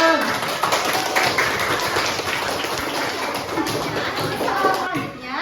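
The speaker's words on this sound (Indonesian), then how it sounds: "Tepuk tangan" Schoolchildren clap together in an elementary school classroom at SD Negeri Pamulihan 2 in Indonesia, a dense, steady patter of many hands lasting throughout, with children's voices mixed in.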